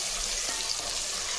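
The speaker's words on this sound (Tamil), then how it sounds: "அதில் வெங்காயம் நல்லா சவுண்டு வரட்டுங்க." About 150 grams of chopped onions sizzle loudly in hot oil for mutton biryani, a dense continuous frying hiss close to the pan with no voices.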